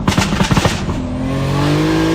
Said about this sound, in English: just sort of pull up on the lever and it goes pop, pop, bang, bang, and the car takes off